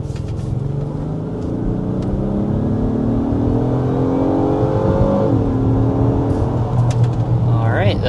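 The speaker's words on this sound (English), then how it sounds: "we need to start with a hard acceleration so you can see what this powerful MDX is all about" A 2026 Acura MDX Type S three-row luxury SUV accelerates hard up to 60 mph, its engine note climbing steadily in pitch and loudness through the run and dipping briefly at a gear change, heard from inside the cabin.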